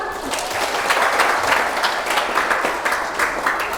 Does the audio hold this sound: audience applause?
yes